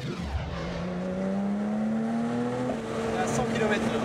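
A Porsche GT3 accelerates on the road, its engine note climbing steadily through a gear and then shifting higher, heard from close by under a continuous engine drone while people talk over it.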